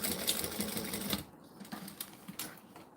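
A sewing machine stitching fabric runs in a dense, rapid whir for about a second, then stops, leaving faint handling clicks and rustles close by.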